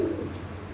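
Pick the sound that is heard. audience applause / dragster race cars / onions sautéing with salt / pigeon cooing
pigeon cooing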